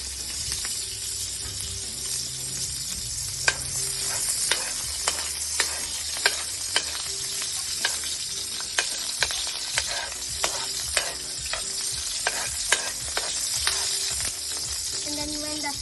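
Ginger and onion fry in a pan, a steady close sizzle broken by regular sharp scrapes and clacks of a utensil stirring, continuing evenly for the whole stretch with no talking.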